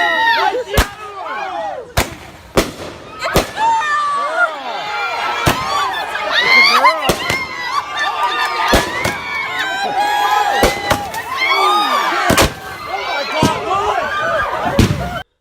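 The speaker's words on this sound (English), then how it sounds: "People accidentally shot themselves with the fireworks that they set off" Repeated sharp fireworks bangs at a gender reveal party, set off from a flimsy stand, crack out at irregular intervals over loud crowd chatter, cheering and voices throughout.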